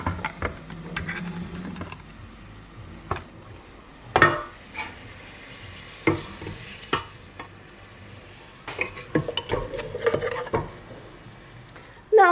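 Onion and tomatoes sizzling in olive oil in a pan, with a low steady fry broken by scraping stirs and occasional clinks of a utensil against the pot.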